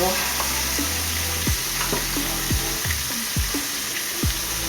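Liver and onions frying in a pan, a constant close sizzle with repeated short scraping and stirring strokes of a utensil across the pan.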